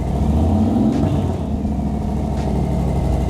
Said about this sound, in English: if I give it the throttle, let me see